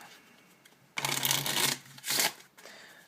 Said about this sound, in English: we start off with a shuffle deck, just to make sure the cards are random